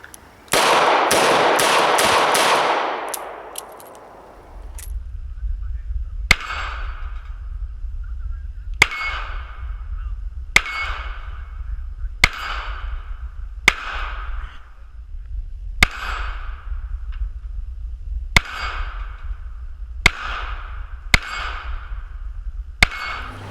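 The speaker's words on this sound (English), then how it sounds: "We're actually going to speed up our shooting a little bit and speed up the cadence" A Ruger LCR .38 revolver firing outdoors, a series of sharp loud cracks at a fairly quick, slightly uneven cadence, each followed by a short echo over steady background noise, after a burst of loud rustling at the start.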